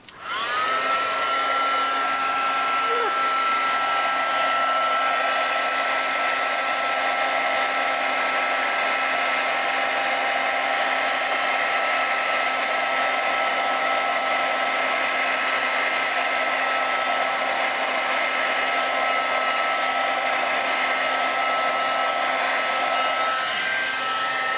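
Hair dryer blowing steadily on damp craft glue, a continuous close, loud whirring hum with a faint whine that runs unbroken from start to finish.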